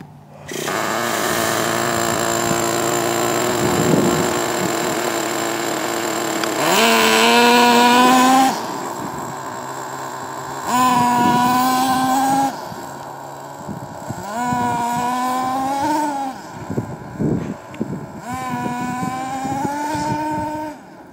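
A nitro RC truck engine is run at half throttle in short bursts: loud, buzzing revs climb in pitch, drop back to idle between bursts, and repeat several times close to the mic.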